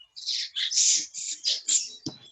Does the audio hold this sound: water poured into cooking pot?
no